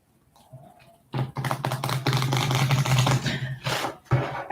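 Tarot cards being shuffled by hand in a steady, dense rustle of riffling and sliding cards, close and fairly loud, starting after a quiet moment and pausing briefly near the end.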